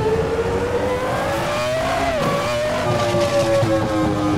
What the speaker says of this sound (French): Super bruit aussi, cette petite Sauber